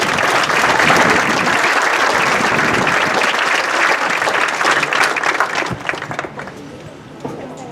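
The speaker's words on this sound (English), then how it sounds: "how about a round of applause one more time for all of those parents" A school band's audience at a Meet the Band Night gives a long, dense round of applause that stays full and steady before thinning out near the end.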